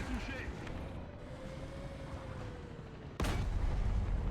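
AuF1 self-propelled gun in War Thunder letting off a single heavy, booming cannon shot near the end, loud and sudden after a stretch of low rumbling ambience.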